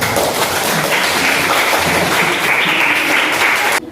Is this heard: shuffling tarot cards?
no